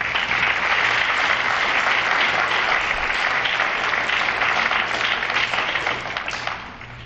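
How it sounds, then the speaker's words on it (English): An audience at a high school National Honor Society ceremony gives a long, dense round of applause that holds steady before tapering off near the end. "Students, please give a round of applause to your parents."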